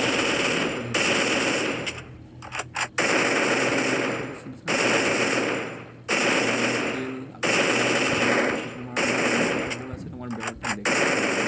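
Automatic gunfire rattles in the video game Free Fire, loud sustained bursts separated by short gaps, with a voice occasionally talking underneath.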